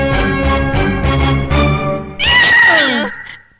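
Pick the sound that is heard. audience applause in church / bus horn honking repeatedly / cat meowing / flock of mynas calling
cat meowing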